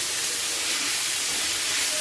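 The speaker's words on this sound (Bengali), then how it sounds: "এবার স্বাদের লাউ আমি দিয়ে দিচ্ছি, একদম নেড়ে চেড়ে নেবো" Bottle gourd dropped into hot spiced oil in a pan while cooking a prawn and gourd dish, giving a steady, moderately loud sizzle and hiss that runs on without pause.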